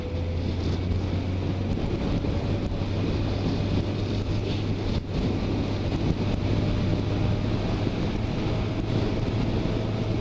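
Constant wind roar buffets the microphone while riding out on an open road, a dense steady rush with a low engine-like hum underneath and no voices.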